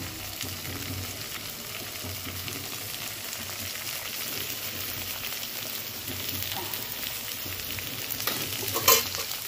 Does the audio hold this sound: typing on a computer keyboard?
no